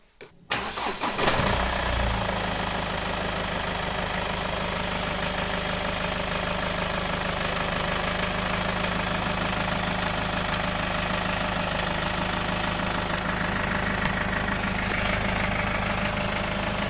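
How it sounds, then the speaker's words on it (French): A 2012 Mercedes A180 starting after an oil and filter service: a quick crank catches and the engine settles into a steady, close idle that holds evenly, no talk. "On va faire un test de démarrage."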